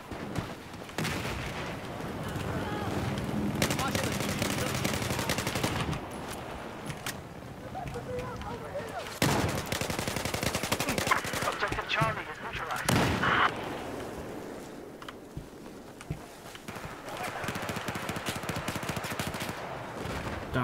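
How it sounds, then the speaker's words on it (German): Rapid gunfire from the video game Battlefield 4, with repeated bursts and scattered shots crackling through a busy battlefield mix while someone talks in German over much of it. "Da schießt irgendjemand auf meine Leute."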